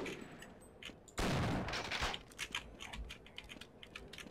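Burst of gunfire from enemy soldiers in Half-Life, opening with a loud close volley, then trailing into sharp scattered shots and clicks.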